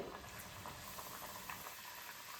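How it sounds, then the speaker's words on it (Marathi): Foxtail millet shankarpali frying in hot oil, a faint, even bubbling hiss that runs steadily through the short stretch without talk. "हे आता मी दुसरी बॅच तेलामध्ये सोडते"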